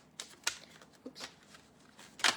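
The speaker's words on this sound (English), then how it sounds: "I will draw you a card." A deck of cards is shuffled to draw a card during a live reading, a few quiet, crisp riffling bursts spaced apart, close and soft, with no talk.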